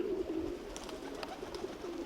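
Pigeons coo softly and steadily around a loft where birds circle and settle, with a low continuous murmur of cooing and a few faint sharper chirps, no voices.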